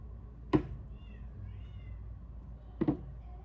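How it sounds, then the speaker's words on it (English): A cat trapped and pinned inside a ceiling meows twice, a few seconds apart, each cry short, faint and muffled over a quiet background. "I have a cat. She climbed through the ceiling and got pinned in."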